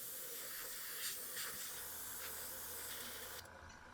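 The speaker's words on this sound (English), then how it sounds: "spray this out." Airbrush paint spraying while testing Venom blue-black color, a steady close hiss running throughout with a few brief bursts, then cutting off near the end.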